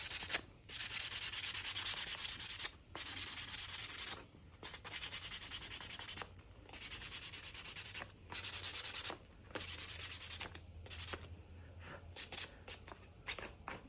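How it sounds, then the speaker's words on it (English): Sandpaper rubs over the painted edge coating of a made-to-order atelier piece, taking off some paint in a steady scratchy rasp of repeated strokes with brief pauses between passes, close and fairly quiet. "So when we use the sandpaper, as you know, it does take off some paint."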